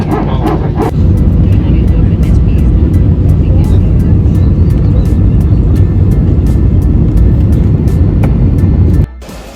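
Airplane taking off on a short domestic flight to Goa, a steady loud engine roar filling the cabin throughout before cutting off near the end.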